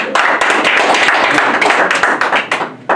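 Loud, close round of applause from an audience, a dense burst of many hands clapping with sharp individual claps standing out, tapering off near the end.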